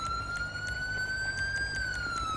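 A police car siren left running in GTA 5, a steady electronic wail holding one rising-and-falling tone that sweeps slowly up and back down, loud and continuous with a faint background hum and no talking.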